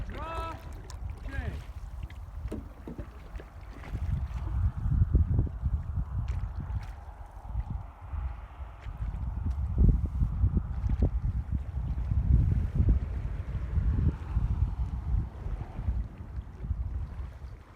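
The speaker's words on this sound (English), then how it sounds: "So when I plant the paddle, I'm going to plant a little bit with an angle, draw, J." Paddle strokes in a Northstar Phoenix solo canoe, each a soft splash and swirl of water repeating in a loose rhythm, close by, with wind noise and a voice talking over them.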